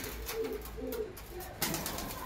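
Pigeons in a home loft coo softly as they are released and fed paddy, a few low burbling calls close by, fairly quiet, followed by a brief rustle.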